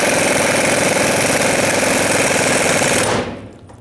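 A power tool runs continuously, tightening the nut on the pitman arm of a 2000-2006 Chevy Tahoe, a loud buzzing rattle held for about three seconds before cutting off.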